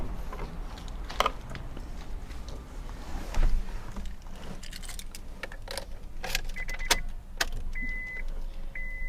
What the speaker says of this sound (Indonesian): Kita coba masuk lagi, kita ini tutup spionnya lagi ya.